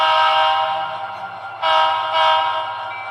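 A model train locomotive sounds through a Loksound 50348 twin sugar cube speaker, giving a steady, bright, trebly horn-like tone with a low rhythmic chuff beneath, swelling twice near the middle and heard close with no talking.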